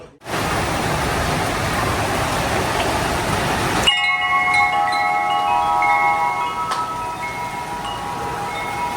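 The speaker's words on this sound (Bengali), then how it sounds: "কি দেখো ঝড় আসছে কালো হয়ে একদম।" A darkening storm blowing in, with loud, steady wind buffeting the microphone and a rain-like wash of broadband noise throughout; after a few seconds the roar drops to a softer, sustained rush with faint tonal background sounds, no talk.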